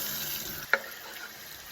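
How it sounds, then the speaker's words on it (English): Tap water runs steadily while kitchen equipment used for preparing chicken is washed at a sink, a soft continuous wash with one brief clatter midway and no talking. "Now I'm washing the equipment that I was using."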